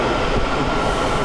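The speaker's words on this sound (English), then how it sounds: "here is the next train" Metro train pulling into a station, a steady loud rumble of wheels and cars on rails filling the whole moment with no voices.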